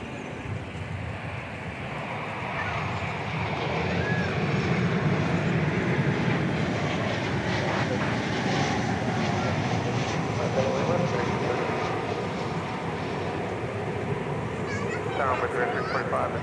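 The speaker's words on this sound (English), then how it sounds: "here comes the flight from Puerto Vallarta. Departure 37." An airliner from Puerto Vallarta moves at DFW Airport, a steady broad engine roar rising after a couple of seconds and holding at moderate distance, with voices talking over it.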